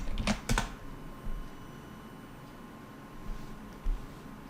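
Keys on a computer keyboard tapped in a few quick bursts near the start, then sparse faint clicks against a quiet room background as a prompt is entered.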